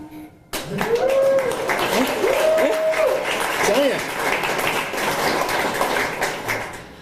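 A crowd applauds loudly and continuously for the Switchbacks soccer team's championship wins, with cheers and whoops rising over the dense clapping.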